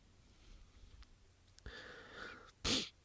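A person with a cold breathes with a wheezy, whistling rasp. The soft airy breaths end in a sudden loud, sharp burst of air, close to the mic.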